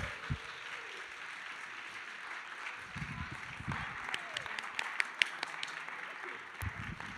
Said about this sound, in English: one more round of applause for our presenters